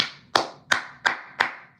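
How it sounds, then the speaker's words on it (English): Four sharp, loud hand claps, close and evenly spaced about a third of a second apart, with no other sound between them. "Clap it up."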